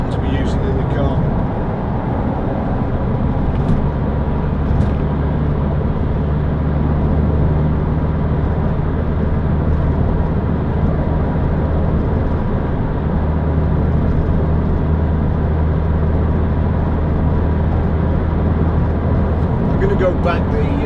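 A 2006 Toyota MR2 1.8 VVT-i roadster driving around a roundabout, its engine a steady droning hum heard from inside the cabin with road noise throughout, while someone talks over it.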